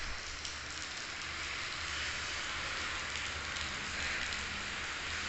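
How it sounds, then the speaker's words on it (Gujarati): Steady rain falls without pause, a dense, even hiss throughout with no voices. "વરસાદ બહુ ચાલુ છે, સાંજે પણ ચાલુ હતો, અત્યારે પણ ચાલુ છે."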